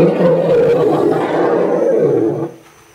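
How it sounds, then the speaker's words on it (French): Elephants fighting at an African water hole let out a loud, rough roaring bellow that holds steady for over two seconds and then drops off abruptly, with no speech over it. "J'ai jamais vu se battre les éléphants comme ça."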